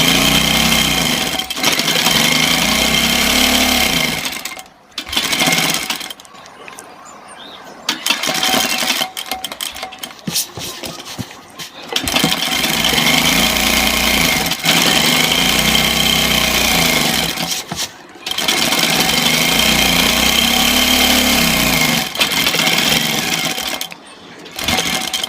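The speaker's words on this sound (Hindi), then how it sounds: "अब हमको ये सिलाई अंदर वाली साइड में लगानी है, बिल्कुल किनार की सिलाई।" A sewing machine stitches a kurta hem along the inner edge, running loud and close in long steady bursts with a rapid mechanical whir, broken by short pauses and handling noises.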